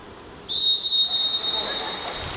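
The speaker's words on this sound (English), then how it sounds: "And the referee signals the beginning of the quarter. Nice long whistle." A referee's long whistle signals the start of a quarter at a 16U national water polo match, one sustained piercing tone lasting nearly two seconds over a murmuring crowd.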